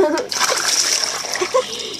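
Water from a bucket splashes loudly onto someone during a bucket challenge, a sharp splatter followed by dripping and sloshing, with a voice and other voices talking and exclaiming over it.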